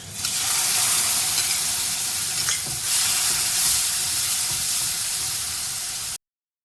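Curd poured onto roasted masala in a hot pan for gourd and cauliflower kofta curry, giving a loud, steady sizzle with a brief splashy burst partway through, and no voices.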